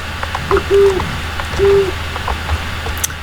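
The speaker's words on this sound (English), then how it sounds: "I love the owl too." Two clear, sustained owl hoots sound in a ghostly Halloween scene of the horse-riding game Star Stable Online, spaced about a second apart over a constant ambient wash and soft clicks.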